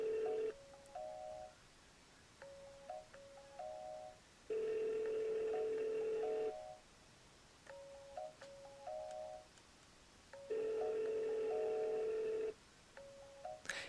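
A phone line rings in repeated long tones between bursts of dialing beeps, faint and electronic, with no talking.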